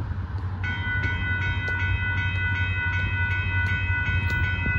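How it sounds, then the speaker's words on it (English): A Norfolk Southern auto train rolls past a road crossing in Austin, Texas, with steady low rumble and wheel clatter, while a sustained multi-tone horn chord sounds loudly over the rolling noise; no talking. "Here comes this next train that has a Norfolk Southern coming."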